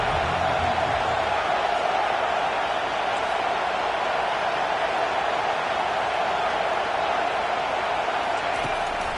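A home crowd roars steadily at a football game, a dense, constant wash of cheering and noise heard from within the stadium, with speech faintly mixed in.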